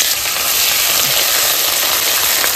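Ginger dropped into hot oil with whole spices for bhuna khichuri, giving a loud, steady, close hiss of frying that fills the whole moment without any talk.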